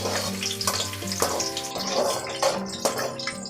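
Shallots and garlic sauté in hot oil for an okra thuvaiyal, giving a steady close hiss and sizzle under a tonal, ringing background.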